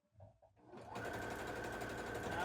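A sewing machine stitches a reinforcement line on a frayed pocket bag, starting after a few soft clicks and then running in a steady, fast, close whirring rhythm to the end.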